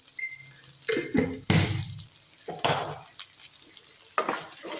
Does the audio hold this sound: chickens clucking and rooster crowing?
no